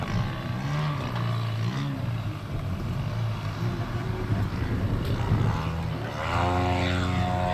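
A Fokker Dr.1 triplane's propeller engine drones steadily while the aircraft moves down toward the end of a runway, a continuous loud rumble with shifting pitch that rises near the end.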